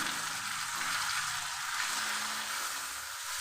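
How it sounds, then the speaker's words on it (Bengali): Spices frying in oil for Bengali chicken kosha, a dense steady hiss of sizzling from a nearby pan, fairly even throughout with faint stirring underneath and no speech. "ও সমস্ত মশলা আমি খুব ভালো করে কষিয়ে নেব"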